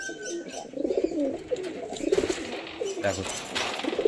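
Madras pigeons, a golden-eyed male and a green-eyed female, coo in soft repeated bursts close by, with someone talking over them.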